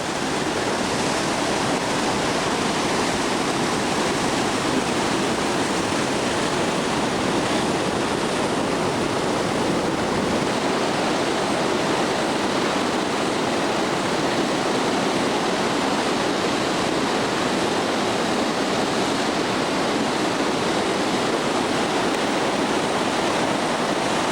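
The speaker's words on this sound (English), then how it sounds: "the Huka, H-U-K-A Falls, comes down here" Huka Falls and its rapids on the river flowing out of Lake Taupo in New Zealand roar as a constant, loud, broadband rush of whitewater with no pauses and no voices.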